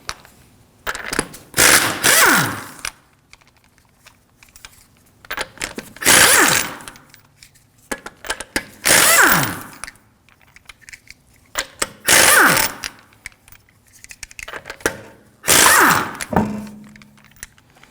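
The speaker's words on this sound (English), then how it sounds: "To remove the wheel, we're going to use a 19mm socket." A ratchet with a 19mm socket spins off the front wheel lug nuts of a 2013-2015 Subaru XV Crosstrek in five loud, close bursts of rapid clicking and buzzing, each a second or two long, separated by brief quiet gaps.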